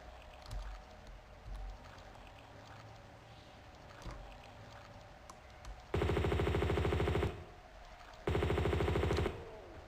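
Gunfire at a bear in Tomb Raider remastered, two loud sustained bursts of rapid shots about two seconds apart, standing out over a low steady water-like ambience.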